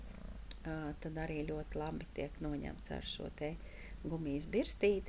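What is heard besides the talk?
domestic cat purring in the background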